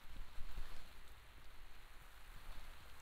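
Steady rain patters continuously on a Wantdo rain jacket worn outdoors, a dense, even hiss of drops with no voices.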